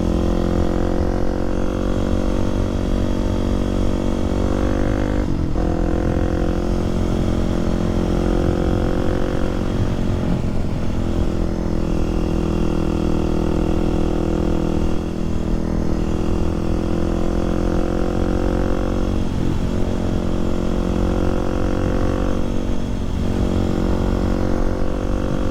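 Kawasaki supermoto motorcycle riding through Chicago, its engine droning loud and close without a break, with the pitch rising and falling through several gear changes as the bike pulls and slows.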